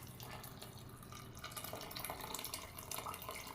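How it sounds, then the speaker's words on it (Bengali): Hot water from an electric kettle pours into a pot of biryani, a steady splashing, gurgling stream that runs continuously and fairly loudly throughout. "তো আমি এবার জল দিয়ে দিলাম।"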